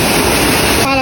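Bukal Falls, a clear-water waterfall, roars as a dense, loud, continuous rush of falling water, close and unbroken for the whole moment.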